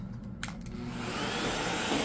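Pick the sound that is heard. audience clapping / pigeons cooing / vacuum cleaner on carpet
vacuum cleaner on carpet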